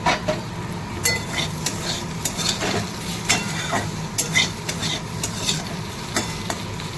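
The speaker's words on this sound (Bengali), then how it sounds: "ভাজা হচ্ছে।" Brinjal slices frying in a pan: a continuous oily sizzle with frequent scraping and clinking of a utensil stirring against the pan, close and steady throughout.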